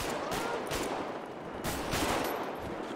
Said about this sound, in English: Somebody shoot three times.